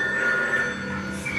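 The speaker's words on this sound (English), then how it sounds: "Oh, there's a phone ringing." A telephone ringing effect inside a haunted attraction at Rusutsu Amusement Park, a continuous electronic bell-like ring heard close and alone.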